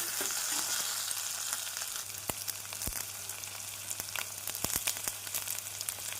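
A steady sizzle of ginger garlic paste sautéing in a hot pan with onions, green chilli and curry leaves, with occasional sharp pops and scraping stirs over the crackle.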